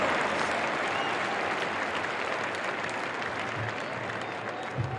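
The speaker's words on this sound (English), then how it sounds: "Once again, ladies and gentlemen, a round of applause" Crowd applause for wrestling state finalists at a boys high school wrestling state final arena, dense sustained clapping from a large audience that fades slightly toward the end.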